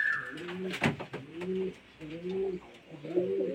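Young full sira Madras pigeons coo in a series of drawn-out, wavering phrases, close and clear, with a short rustling burst early on.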